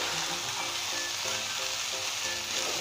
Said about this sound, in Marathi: अशा पद्धतीने परतून घ्यायचं आहे.